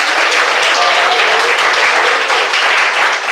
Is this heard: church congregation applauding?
yes